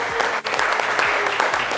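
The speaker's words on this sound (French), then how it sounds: "merci de l'applaudir encore bien fort" An audience applauds Ivorian comedian Agalawal at a live show, a loud, continuous burst of many people clapping close by, with a brief dip partway through.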